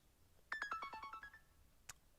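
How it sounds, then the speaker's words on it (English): A phone alarm ringtone sounds as a quick descending run of bright electronic tones, each note chirping and fading, then a single extra tone a moment later, faint and heard alone. "that was my alarm to wake up"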